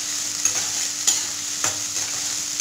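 Sliced onions stir-fry in a pan for tamarind rice, a close, steady sizzle broken by three brisk spatula scrapes.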